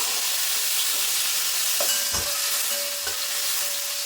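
Rohu fish coated with salt and turmeric frying in hot oil, producing a loud, dense, continuous sizzle up close with a few soft knocks and utensil taps.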